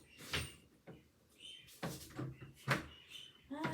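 An indoor door swinging shut, with several soft knocks and thuds spread over a few seconds while birds chirp faintly in the background.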